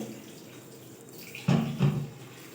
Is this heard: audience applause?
no